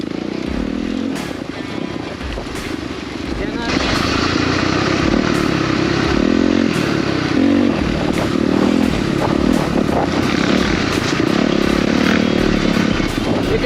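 Rieju 450cc dirt bikes ride an unfinished obstacle road, engines roaring loud and close with revving surges and throttle changes throughout, several bikes overlapping.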